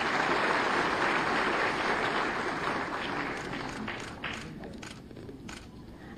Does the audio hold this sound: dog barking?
no